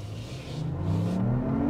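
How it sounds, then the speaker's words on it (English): Synthetic engine sound piped into a Lexus RX 500h cabin while accelerating, a smooth rising tonal hum climbing steadily in pitch over road rumble, heard from inside the car without talk. "I don't know if you can hear this synthetic sound that they added in this Lexus RX 500h."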